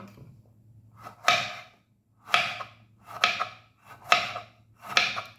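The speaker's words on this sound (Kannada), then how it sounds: "ಸೊ ಬೀಜ ತೆಗೆದು ಹಾಫ್ ಸರ್ಕಲ್ ಥರ ಕಟ್ ಮಾಡ್ಕೊಳ್ಳೋದು" A knife chops a seeded snake gourd into half circles on a board, giving five separate sharp crisp cuts spaced about a second apart over a low steady background hum, with no talking.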